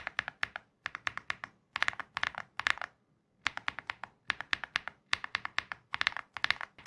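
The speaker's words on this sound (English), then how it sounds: "The typing sound on the full kit is still very pleasant." Crisp, clacky keystrokes come in quick bursts of several presses, separated by short pauses, close and clear with no voices.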